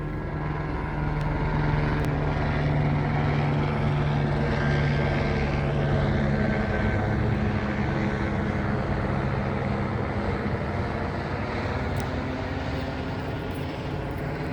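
Steady, continuous helicopter drone with a low rotor thrum, holding at a constant loud level throughout without fading in or out.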